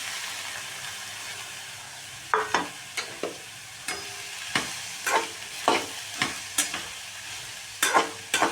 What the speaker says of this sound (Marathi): छान परतून घ्यायचं आहे भाजून घेतलेल्या गवारीच्या शेंगा टाकून घ्यायच्या आहे